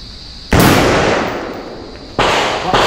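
Sharp, loud reports from a 5.56 rifle at a test-fire session: a big blast near the half-second mark with a long ringing decay, then two more shots in quick succession late in the clip, with no talking.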